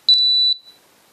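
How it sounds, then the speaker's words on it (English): A Spektrum DX6i radio transmitter timer gives two quick high-pitched electronic beeps, one right after the other, followed by a slightly longer sustained tone that cuts off into near silence. The sound is close and clear. "And that beeps twice, let us know it's going down."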